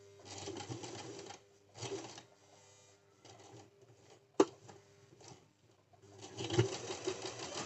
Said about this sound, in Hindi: और इसको और यहाँ से हम थोड़ा सा पक्का सिलाई कर देंगे।